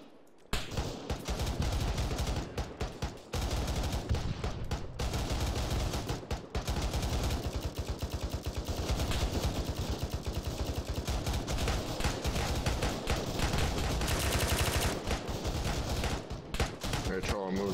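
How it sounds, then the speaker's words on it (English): Dense, continuous gunfire and machine-gun bursts from an ArmA 3 co-op mission rattle loudly and almost without pause for the whole stretch, rapid overlapping shots close by, with occasional voices talking amid the shooting. "We're shooting at friendlies"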